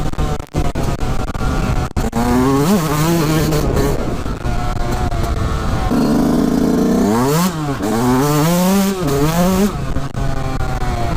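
A 2020 Yamaha YZ 125 two-stroke motocross bike with a prepared engine runs loud and close, rising and falling through repeated throttle blips and revving sweeps, with reed valves working at low revs and little clutch use.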